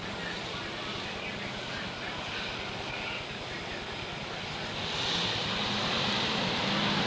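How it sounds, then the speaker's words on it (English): Field of strictly stock race cars rumbling off the fourth turn at Waterford Speedbowl, a dense, steady engine roar that swells slightly near the end. "Field rumbles off that 4th turn once again."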